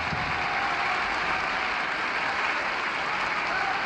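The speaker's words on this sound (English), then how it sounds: "as the audience shouts and applauds" Opera audience at the Metropolitan Opera in New York cheering and applauding Maria Callas after Lucia di Lammermoor, a dense, steady roar of clapping and shouts filling the hall throughout.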